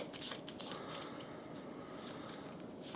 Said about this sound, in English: I'll shuffle my objective cards